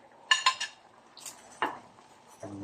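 Chicken pieces tumble into a curry pan with a few bright clinks of metal utensils against the pot, followed by scraping stirs and a soft low sizzle at the end, close and otherwise quiet.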